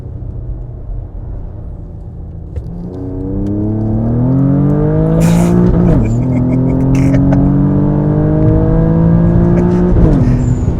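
A 650+ wheel-horsepower Infiniti Q50 accelerates at full throttle off a rolling anti-lag launch, its loud engine note climbing in pitch through quick upshifts with brief dips at each gear change, heard close from inside the car.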